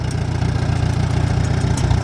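An antique tractor engine idles after warming up, a steady low chugging rumble with an even, rapid pulse throughout, close and fairly loud with no voices.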